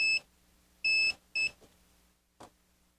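Three sharp electronic beeps from a KAiWEETS KM200s digital multimeter detecting voltage, the middle one longest, followed by a soft click; a faint hum runs underneath.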